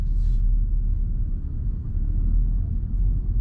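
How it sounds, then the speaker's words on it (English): A 2023 Honda Civic Type R creeping forward as the clutch is eased out with no throttle, heard from inside as a steady low engine rumble and drivetrain hum at idle, continuous and even throughout. "slowly release the clutch, you'll notice I didn't even hit the gas and it started to move"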